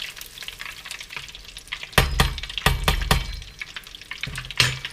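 Mac and cheese balls sizzle and crackle as they are rolled around in hot frying oil, with a steady bubbling bed broken by several louder bursts of spattering and a few clinks of a spoon against the pan.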